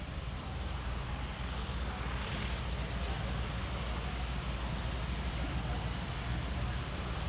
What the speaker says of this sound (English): The two aircraft used in this display are 1940s Boeing Stearman biplanes.